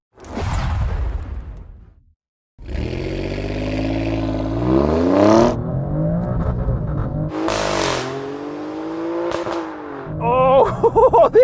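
A 510 hp Alfa Romeo Stelvio Quadrifoglio SUV launches hard, its engine roaring up through rising revs with sharp gear-change dips and loud exhaust sweeps close by, then a brief pause before the pull resumes.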